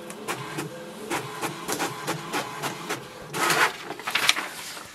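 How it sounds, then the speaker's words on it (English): An HP Tango inkjet printer prints an information page, giving a steady run of mechanical clicks and whirring carriage passes, with louder feed and shuttle bursts near the end, close and alone. "it will send a command for the printer to print the page"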